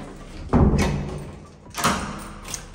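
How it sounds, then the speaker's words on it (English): An apartment door closes with a solid thud, followed about a second later by a second latching knock, close and fairly loud in a quiet hallway. "And I'm gonna close the door."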